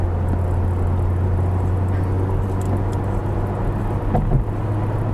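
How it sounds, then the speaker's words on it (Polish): Honda Civic Type-R with a 2.0 turbo engine rated at 320 hp, driven on the road, giving a steady low engine drone and road rumble from inside the car with no speech. "ten dźwięk tego silnika jest niesamowity"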